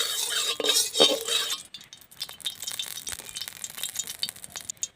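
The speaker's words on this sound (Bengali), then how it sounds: "তেলটা একটু নেড়ে দেবো।" Mustard oil heating in a wok and stirred with a utensil: a noisy opening, then soft scattered scrapes and light metallic clinks over a faint sizzle, close by.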